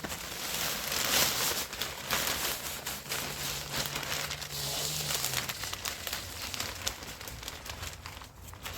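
Scissors cutting open plastic packaging in a home garden setup, a steady run of crinkling, rustling and snipping close by with no talk.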